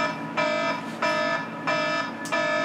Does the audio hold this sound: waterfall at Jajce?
no